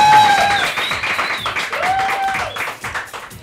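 Studio audience applause on a Colombian TV show, a steady wash of clapping with bright whistle-like tones rising above it, fairly loud and continuous.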